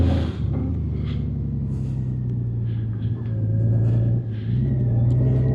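Steady low engine rumble of a Honda Gold Wing's horizontally opposed engine while riding on the road, a continuous drone with faint wind noise and no talk.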